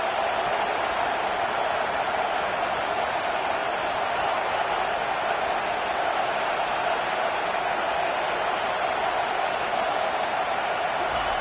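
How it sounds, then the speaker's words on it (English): A loud, steady roar from a home football crowd on 3rd down, a dense unbroken wash of noise holding level throughout with no clear breaks. "Here comes this home crowd as the defense tries to get off the field on 3rd down."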